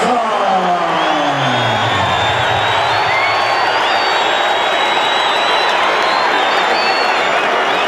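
A boxing arena crowd roars before a Larry Holmes heavyweight fight, a loud continuous wall of cheering and crowd noise with no letup, and a pitched tone drifting over it.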